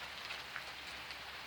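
Gentle rain falls on a front porch and a parked car, a soft, even, faint patter with occasional slightly louder drops, steady and unbroken, with no talking.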